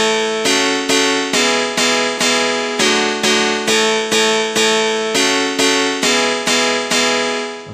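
A sustained chord progression from an electronic track, with synth pads and steel guitar voices, pulses in evenly spaced rhythmic swells with a pumping feel, loud and clear with no talking.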